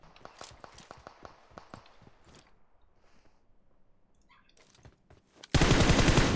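Rapid bursts of gunfire from a PUBG Mobile match, sharp repeated shots in the first seconds, then scattered quieter cracks, ending in a sudden loud broadband blast of sound.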